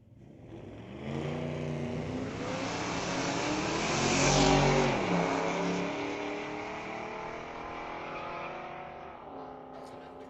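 Drag racing cars at Mission Raceway Park roar past the finish line side by side, engine noise swelling to a loud peak and fading away, with a voice talking over it.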